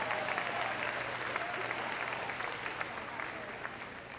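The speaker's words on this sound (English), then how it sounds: "Let's give him a big round of applause." Spectators clap steadily for a rescue dog after its agility run in a large indoor arena at Crufts, a dense and even wash of applause lasting throughout.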